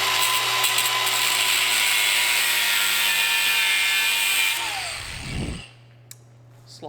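A high-pitched power tool cuts a slot into a seized bolt head on a 1969 McLaren M6GT replica parked since 1985, whining steadily and loudly for about five seconds before winding down and stopping.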